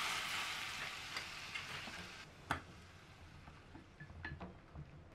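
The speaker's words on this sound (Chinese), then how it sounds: "然后泼2勺热好的油搅拌" Hot oil poured over coarse and fine chili flakes, garlic and white sesame seeds in a bowl, a soft steady sizzle that fades gradually with a few sharp crackles and stirring clicks near the end.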